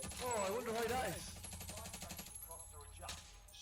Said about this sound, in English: there's a lot of shooting around the last circle